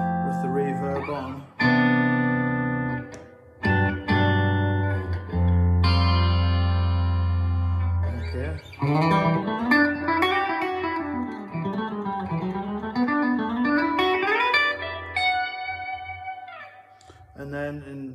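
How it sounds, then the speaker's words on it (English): Electric guitar on the treble pickup, a Strat with a replacement neck, played through a Princeton Reverb amp with the reverb on: sustained chords and then melodic single-note lines, close and fairly loud, with a reverb tail and no talking. "We're playing through a Princeton Reverb amp at the moment with the reverb on."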